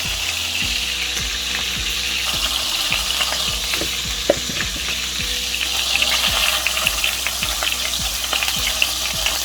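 Mince meatballs sizzle and crackle steadily in a hot frying pan, a dense continuous fry with occasional louder pops and faint low hum beneath, close and fairly loud throughout.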